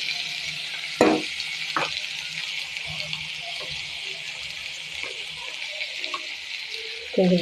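A vegetable stir-fry sizzles steadily in a hot pan, with a few sharp scraping strokes of a spoon against the pan near the start and end, and no talking.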